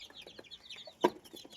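Chickens and small chicks kept at home, soft clucking and high peeping in quick scattered bursts, close by and fairly quiet, with one louder cluck partway through.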